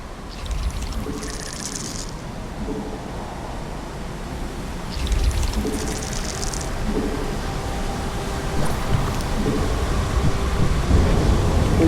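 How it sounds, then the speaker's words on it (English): Thunder rumbles through a wintry flash freeze storm in the StarCraft II game, a steady roar of wind and rain-like noise with a couple of louder crackling rolls, heard alone without voices. "A flash freeze storm has hit."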